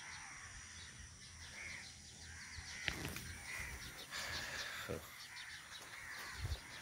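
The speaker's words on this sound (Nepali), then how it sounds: "कागहरू यसरी मिलेर एकै ठाउँमा बसिया छ" Crows caw repeatedly from a gathering flock at the Pokhara lakeside in the morning, faint and somewhat distant calls rising over quiet outdoor ambience.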